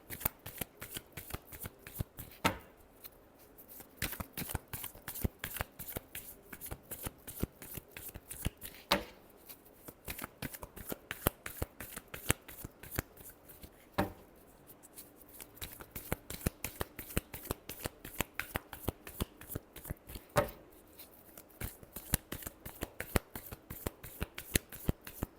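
Tarot cards are shuffled over and over in fast, crisp riffles and rapid flutters, a close, dense run of card noise that continues with brief pauses.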